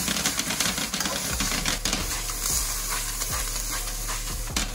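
Ground beef paste sizzling in a hot pan, with a steady frying crackle and repeated scraping, clacking strokes of stirring, close and fairly loud with no talk.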